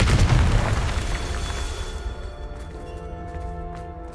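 A Confringo spell explosion in the Hogwarts Legacy video game lands as a loud, booming blast, then rumbles and rings out over several seconds as the effect fades.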